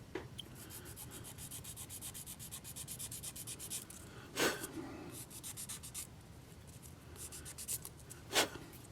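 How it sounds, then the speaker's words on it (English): Fine sanding on a small part during a DCC install in a Proto 1000 Budd RDC model train: quick, steady back-and-forth rubbing strokes close by, with two brief louder scrapes. "Let me sand that off just a little bit."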